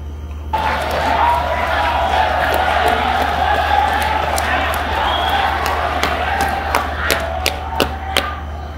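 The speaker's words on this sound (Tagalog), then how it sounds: "Palakpak yun" A live crowd at a rap battle bursts into steady applause and cheering that runs on for several seconds, with sharp clap-like hits and shouts rising near the end.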